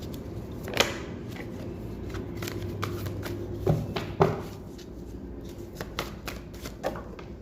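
Tarot cards are shuffled and handled close up, with soft riffling and a steady papery rustle broken by a few sharper slaps and taps as cards are pulled from the deck.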